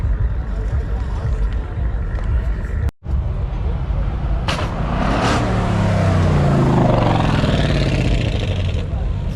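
A drag race car launches from the start line on a valley racing track, its engine roaring loudly and sweeping upward as it accelerates away, heard over crowd chatter and wind noise.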